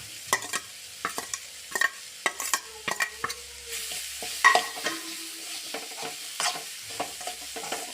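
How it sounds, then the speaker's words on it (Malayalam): A spatula scrapes and stirs a chicken mixture for momo filling in a frying pan, quiet sizzling under a string of uneven, distinct clinks and scrapes. "എല്ലാം കൂടിയിട്ട് ഒന്ന് മൂത്ത് വരുന്നവരെ ഇളക്കി കൊടുക്കാം"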